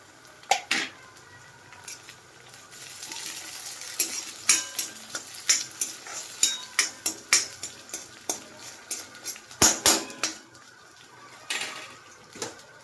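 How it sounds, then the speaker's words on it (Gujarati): Onions and tomatoes sautéing in a pan, a steady sizzle broken by repeated sharp clinks and scrapes of a utensil stirring against the pan, close and without speech. "તો હવે ડુંગળી સરસ શેકાઈ ગઈ છે તો ટામેટું નાખી દેવાનું."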